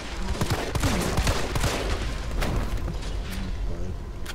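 Rapid gunfire in Resident Evil 3, a dense steady barrage of shots and booms across the whole stretch, loud and close.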